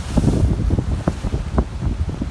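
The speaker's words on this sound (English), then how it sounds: "The water's all rushing between the rocks." Storm waves surge and water rushes under and between the rocks of a washed-out jetty, with a churning, irregular wash and gusting wind noise buffeting the microphone.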